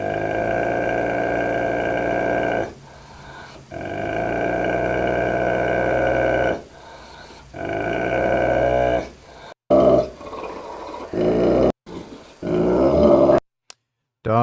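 A dog growls at its own reflection in a mirror: long, sustained rumbling growls broken by short pauses, loud and close, with no one speaking.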